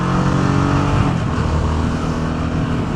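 A Harley-Davidson Sportster S motorcycle engine runs loud and close at high revs, a dense, steady roar with strong low harmonics that shift slightly in pitch.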